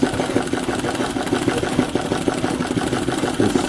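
An embroidery machine stitches steadily, a loud, continuous mechanical whir with a fast, even rhythmic pulse of needle strokes, close up and alone.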